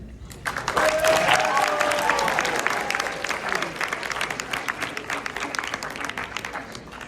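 Audience applause for Maddie Braun, a student candidate at a high school candidate speech event, a dense burst of many hands clapping that starts strongly and carries on steadily, with a few voices mixed in.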